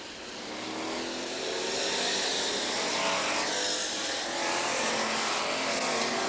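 Stock cars dicing for position at Jefferson Speedway, a continuous loud engine drone rising and falling with revs as the cars pass, unbroken by talk.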